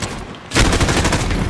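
Gunfire bursts in a Modern Warfare Hardpoint match, a dense, loud rattle of rapid shots starting abruptly after a quiet half second and continuing steadily to the end.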